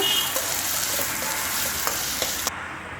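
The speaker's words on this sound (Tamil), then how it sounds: "ஒரு ரெண்டு வரமிளகா நல்லா ஃப்ரை பண்ணிக்கலாம்" Chopped onions and two dried red chillies fry in a pan with a loud, close, continuous sizzle, punctuated by a few light stirring clicks before the sound drops abruptly near the end.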